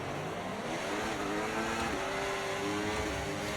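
Race cars in the F1 24 video game roar continuously, their engine whine climbing steadily in pitch as they accelerate, loud and sustained with no talking over it.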